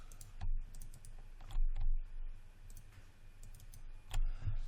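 Sharp clicks of a computer mouse during 3D modeling work in Maya, a few distinct close taps spaced irregularly over a quiet background with no talking.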